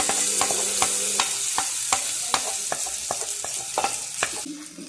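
Spices and coriander powder sizzle in hot oil for a tempering while a spoon stirs and scrapes the pan in repeated sharp strokes, loud and close.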